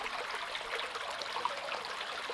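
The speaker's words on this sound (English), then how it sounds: "A small little waterfall." A small homemade spillway bowl waterfall, about two inches wide and fed from a filter, gives off a steady, close trickle and splash of falling water that holds even and unbroken throughout.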